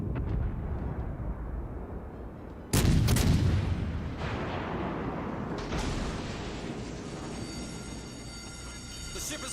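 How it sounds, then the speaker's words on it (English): A big blast hits from gunfire in the Protomatter game over a constant rumbling roar, with later whooshing and a rising metallic whine. Quiet speech sits under the noise. "he's shooting at me"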